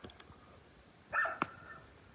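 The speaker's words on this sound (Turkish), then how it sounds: "Yalnız şurada köpek var gibi kanka haberin olsun." A dog barks at night in a village, heard as a short distant burst followed by one sharp bark against quiet surroundings.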